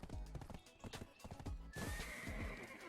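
A horse in Black Desert Online whinnies loudly over steady clip-clopping hooves, the neigh rising clearly partway through, with a faint voice underneath.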